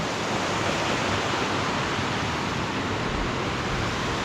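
The San Joaquin River flowing along the John Muir Trail, a steady, dense broadband rush of moving water filling the scene at close range with no other sounds.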